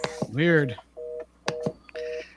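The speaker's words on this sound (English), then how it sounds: "Hey, Is that dial tone?" Telephone tones, steady held beeps in short repeated bursts like a dial tone and dialing, heard during a casual hangout while people talk over them.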